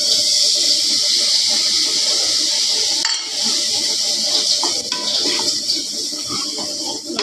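Masala of browned onion, turmeric and cumin sizzles and hisses in a pan, a dense, continuous frying crackle with a short clatter partway through and shifting intensity afterward.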